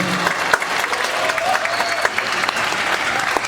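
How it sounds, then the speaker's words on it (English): Audience applause at a luau event, honoring a pastor after a prayer; steady dense clapping from a crowd with a few louder nearby claps, lasting throughout without speech. "How about a big round of applause for Pastor Mata, ladies and gentlemen?"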